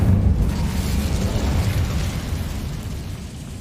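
A fire spell, Incendio, cast in Hogwarts Legacy, roaring as a loud, steady whoosh of flame with a deep rumbling body that tapers off slightly over a few seconds.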